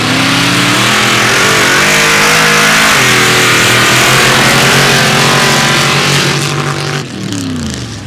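Mud drag truck Jenny, fitted with an IROC body and a 406 small block, revs hard up close, its loud engine note climbing and falling in repeated pulls before easing off near the end.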